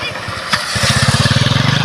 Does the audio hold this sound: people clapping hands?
no